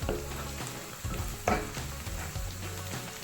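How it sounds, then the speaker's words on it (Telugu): Onions sizzle and fry with turmeric in a pan for a tomato egg curry, a steady crackling hiss broken by several stirring scrapes and clatters, close and moderately loud with no talking. "ఉల్లిపాయలు కూడా మంచిగా వేగిపోయాయి."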